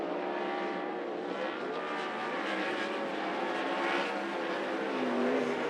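360 sprint cars race on a dirt oval, several engines blending into a continuous high-pitched roar that swells and fades slightly as cars pass, heard from the stands at a moderate distance.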